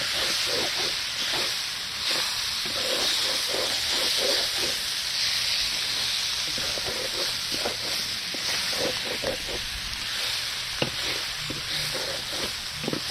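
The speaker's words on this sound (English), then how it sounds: "Get it toasting a little bit." Paella rice toasting in a large paella pan over a burner, a steady loud hiss and sizzle throughout with soft scraping stirs coming and going.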